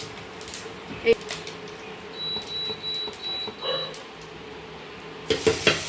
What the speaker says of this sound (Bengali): এবারে গোটা জিরে, দারচিনি আর ছোট এলাচ ফোড়নে